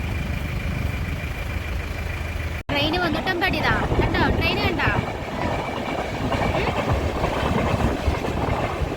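A passing train rumbles steadily, with rhythmic clatter and squealing wheel and brake tones growing prominent after a brief cut, loud and close throughout.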